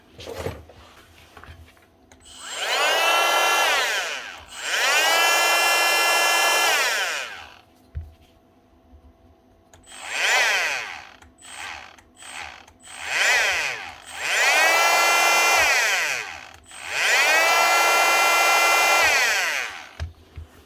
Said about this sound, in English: It is able to run on its own because it has a top and bottom bearing.